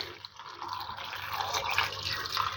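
Water poured into a pot for a mushroom marinade, a continuous splashing fill with dripping that grows slightly louder and fuller as the pot fills.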